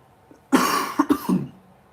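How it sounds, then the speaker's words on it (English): A person with a sore throat coughs, a harsh burst followed by two or three quick rough coughs, close and loud against a quiet room. "I think that's like the 10th time I coughed in this stream."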